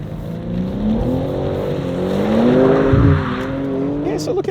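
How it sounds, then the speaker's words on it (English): A 2024 BMW M3 Touring's engine revs hard under full throttle while sliding sideways around a cone, with a steady engine drone and rising pitch, tire noise, and a voice talking over it. "I'll just stand on the throttle, step it out sideways, and see what happens"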